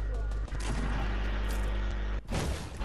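Fortnite gunfire plays as dense, loud shooting over a steady low rumble, with a sharp break and a renewed burst near the end. Voices can be heard faintly in the mix.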